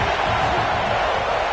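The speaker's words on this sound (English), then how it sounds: "This crowd rising up, sensing that its defense needs some help." Stadium crowd in College Football 26 with LSU, a steady dense roar of cheering that holds at an even level throughout, with no distinct talk on top.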